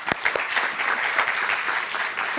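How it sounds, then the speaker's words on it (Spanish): Steady applause from a seated conference audience welcoming a speaker, dense and continuous clapping with a few sharper claps near the start, moderately loud and heard without talk. "a quien le brindamos un fuerte aplauso"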